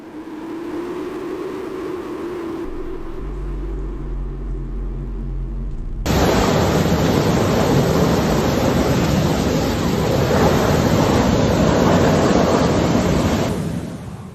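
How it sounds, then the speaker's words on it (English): In the middle of a city, a burst water pipe sends a huge geyser shooting skyward. A loud, steady, broadband roar of gushing water fills the scene after a quieter stretch with a low hum. "A massive geyser erupts in the heart of the city as a pipe bursts."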